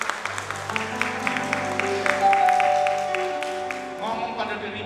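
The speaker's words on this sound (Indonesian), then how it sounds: "Tepuk tangan untuk Tuhan." Church congregation clapping at a Sunday worship service, a broad wash of applause running throughout over sustained keyboard chords, with voices mixed in.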